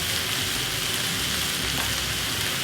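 Eggplant fries in a generous amount of olive oil, giving a steady, dense sizzle that runs evenly throughout with no voices over it.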